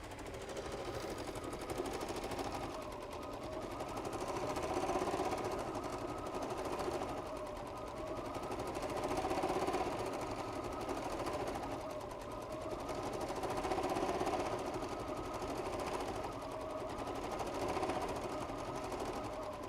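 A sewing machine stitches two fabric sections together in a steady, continuous mechanical whir with a rapid rhythmic needle chatter, swelling and easing slightly in speed, heard alone at close range.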